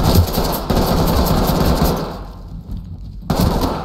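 Bursts of rapid gunfire and a gas launcher shot ring out loudly in the tactical shooter Ready or Not, with dense repeated reports, a brief lull, then more shots.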